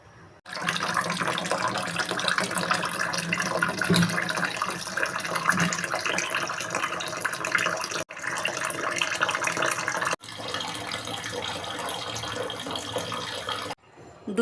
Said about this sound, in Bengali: তো এখন ধুয়ে নিব।